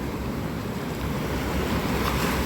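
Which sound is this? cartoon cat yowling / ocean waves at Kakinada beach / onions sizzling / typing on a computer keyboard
ocean waves at Kakinada beach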